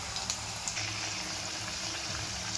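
Onion bonda frying in hot oil, a steady, even sizzle and bubbling hiss that continues without pause, close and moderately loud, with no voices.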